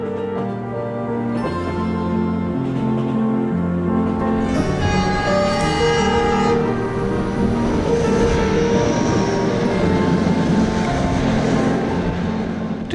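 A long Trans-Siberian Railway passenger train rolls along the tracks in Russia, a steady loud rumble with droning tonal hum throughout and no voices.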